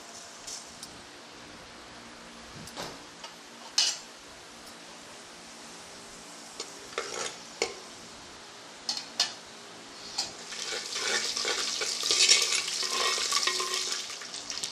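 Mustard seeds hit hot oil for a brinjal tamarind pachadi, starting with a few sparse clicks and taps, then swelling near the end into a dense, loud crackling splutter.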